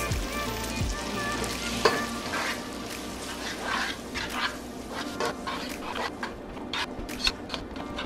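Garlic butter chicken spaghetti is tossed in a hot frying pan, a steady close sizzle broken by soft scraping and clinking stir strokes throughout.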